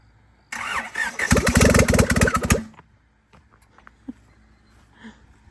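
A Nissan Hardbody pickup engine cranks with a fast, rattling turnover for about two seconds without starting, then cuts off, leaving quiet clicks and faint background noise.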